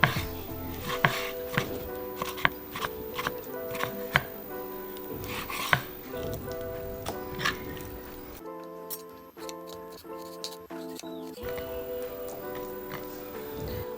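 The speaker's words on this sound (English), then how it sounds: "We're just gonna cut small strips like this." Steak meat being sliced into small strips with a knife on a cutting board for pepper steak, a quick series of crisp knife taps at an irregular rhythm, close and clear, with a brief quieter pause partway through.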